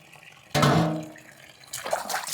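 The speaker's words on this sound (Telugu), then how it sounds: "ఇవి నిరంతరంగా ఇలాగా నీళ్ళు వస్తూనే ఉంటాయి దీనికి ఆపటం అనేది ఏమీ ఉండదు" Water runs steadily from village street-tap pipes fed by a hillside canal, a close splashing rush that starts abruptly and keeps flowing, with a second surge of spattering near the end.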